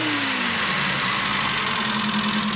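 A carbureted car engine at a Japanese car auction runs up close and loud, its pitch dropping from a rev into a steady, rumbling idle with a faint knocking vibration.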